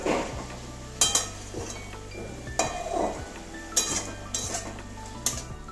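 A spoon scrapes and clinks against a pan as sugar is stirred into papaya chutney, with repeated sharp metallic knocks at irregular intervals over a steady low background hum.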